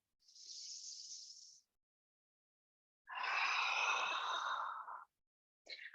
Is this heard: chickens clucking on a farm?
no